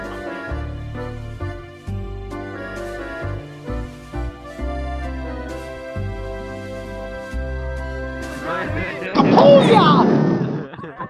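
Explosions in the VRChat game world, set inside a temple, come as a series of low booming thuds over steady background music. A louder, noisy blast bursts out near the end.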